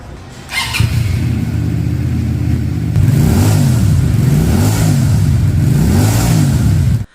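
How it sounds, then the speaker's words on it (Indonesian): A King Aloy automatic cruiser motorcycle starts and then idles loudly up close with a deep, burbling rumble, followed by several rhythmic throttle blips that swell and fade before the engine cuts off. "Tapi begitu lo puntir di pit, ada suara blub-blub yang mirip Moge-Moge Amerika."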